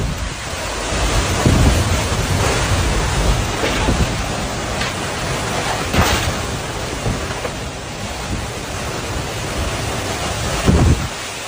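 An intense tornado tears past a house in Illinois: a loud, continuous roar of wind and rain, with heavier rumbling gusts that swell at intervals, no voices.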